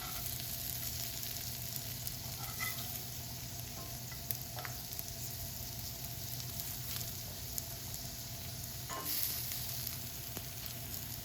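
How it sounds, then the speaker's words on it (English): Steady sizzling and crackling of beets frying in a pan, turning slightly crispy, with occasional soft scrapes of stirring; no talking. "The beets are starting to get a little bit crispy. This is similar to frying potatoes."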